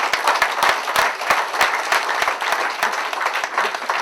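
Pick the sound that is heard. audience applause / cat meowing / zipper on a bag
audience applause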